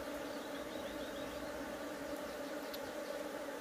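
Honeybees swarm over a frame of honey being moved into a hive during a colony split, making a steady, dense buzzing drone that holds evenly throughout with no talking.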